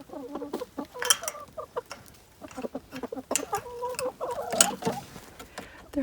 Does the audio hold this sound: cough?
no